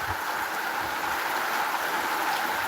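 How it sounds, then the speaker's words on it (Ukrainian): Steady, dense rain falls outdoors at a constant close wash, with no voices and no breaks. "Дощ, дощ, дощ. Дивіться, скільки його. Скільки дощу."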